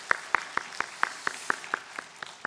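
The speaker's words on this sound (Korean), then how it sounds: "감사와 영광의 박수 올려드리겠습니다." A church congregation at a Friday senior worship service claps in thanksgiving, about eleven sharp, evenly spaced claps in a steady rhythm, moderately close and fairly quiet, with no talk over them.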